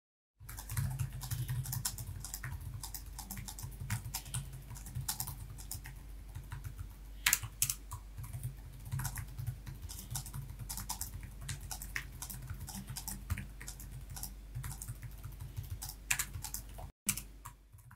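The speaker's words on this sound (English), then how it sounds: "Here's how the keyboard sounds." Steady, rapid typing on an ASUS ROG Zephyrus G14 laptop keyboard with soft key clicks and taps running throughout, close and moderately loud, with no talking.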